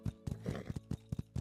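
Horse hooves clip-clop in a steady, evenly spaced trot in the video game My Time at Sandrock, heard alone at low volume with no clear whinny standing out.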